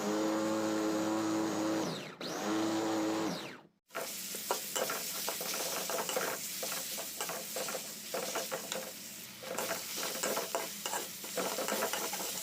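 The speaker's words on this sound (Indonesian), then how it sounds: "langsung aja kita tumis untuk bumbu-bumbu yang kita sudah haluskan." Ground spice paste stir-fried in oil for duck with black sambal, a bright steady sizzle with repeated spatula scrapes following a brief whirring grinder burst and a short cut to silence at the start.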